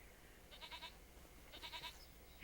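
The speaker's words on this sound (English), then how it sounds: "My milking goats." Milking goats in the farming game Farming Simulator 25 give two short, quavering bleats about a second apart, faint and somewhat distant over a steady low background hum.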